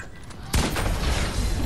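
In the Fortnite video game, an explosive weapon goes off with a sudden heavy blast after a brief quiet moment, followed by a loud sustained rumble and crackle.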